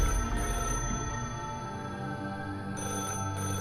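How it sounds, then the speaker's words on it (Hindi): A telephone rings continuously in a steady electronic trill, moderately loud and close, with no talking over it. "तुषार को फिर से उस टेलीफोन के बजने की आवाज आई।"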